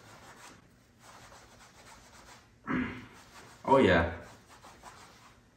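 Towel rubbing dirt and grime off a golf grip, two short scrubbing bursts near the end, with faint earlier rubbing and a brief spoken remark.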